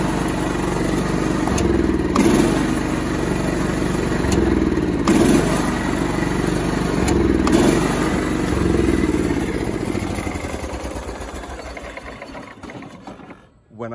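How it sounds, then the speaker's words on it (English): A John Deere STX38 lawn tractor engine runs close by with a steady, loud clattering putter, with occasional brief knocks, before it winds down and stops near the end. "let me start the engine"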